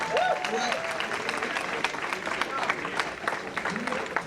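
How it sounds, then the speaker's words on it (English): Audience at a benefit reception clapping in a round of applause, a dense patter of many hands filling the room, with a voice speaking over it. "Let's give her another round of applause."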